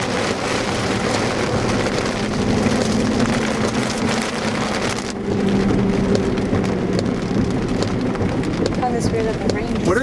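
Heavy rain pours during a storm chase near Wautoma, a dense, loud, continuous roar with a low rumble underneath, while people talk over it.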